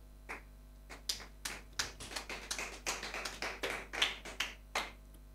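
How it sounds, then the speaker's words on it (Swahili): A church congregation claps for Jesus during a bishop's sermon: a run of sharp, fairly evenly spaced handclaps at moderate loudness, with no talking over them. "Tupigie Bwana Yesu makofi"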